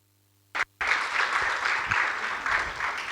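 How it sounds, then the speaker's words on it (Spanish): An audience applauds an engineer after her talk on bioethanol from sugarcane bagasse, following two brief sharp claps. A dense, steady burst of many hands clapping continues to the end, moderately loud and fairly near. "Un aplauso,"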